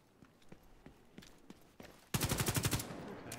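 A Stoner light machine gun firing in The Division: a few scattered single shots, then a loud rapid burst of about eight closely spaced rounds near the listener.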